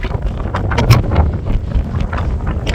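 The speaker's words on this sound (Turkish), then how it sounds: "rüzgar peşimizi bırakmıyordu" Strong wind on the coast at Datça, Turkey, buffets the microphone with rough, gusty rumbling throughout, loud and close.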